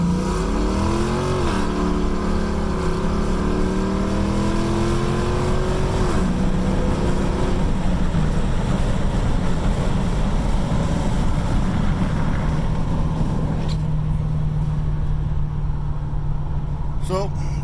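A 1979 Oldsmobile Cutlass with an LS engine swap and pipe exhaust accelerates on the road, engine note climbing through several rising pulls and gear changes, loud and close, then settling into a steady drone.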